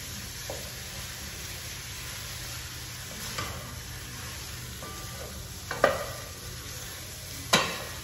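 Sausages fry in their own fat in a pan with a steady, soft sizzle, broken by a few sharp clicks and knocks from the pan or utensil, with no one talking.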